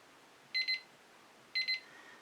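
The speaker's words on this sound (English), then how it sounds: "When that timer goes off, there'll be 1 minute left." A timer goes off with two quiet double beeps about a second apart, each a quick electronic chirp pair over near silence.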